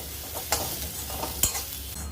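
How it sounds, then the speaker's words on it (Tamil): Dried peas sundal with grated coconut being stirred in a pan, two sharp scraping strokes standing out over a soft continuous rustle and faint background hum, close and moderately quiet. "இது நல்லா மிக்ஸ் பண்ணி விட்டுக்கோம்"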